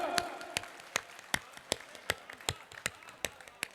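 Audience at an outdoor Hindi poetry recital during a temple festival claps in a slow, steady, distant rhythm, each clap sharp and evenly spaced, with no talk over it.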